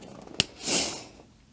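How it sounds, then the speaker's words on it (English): A single short sniffle from someone with a cold, a quick close breathy intake of air in an otherwise quiet indoor room. "Sorry for the sniffles."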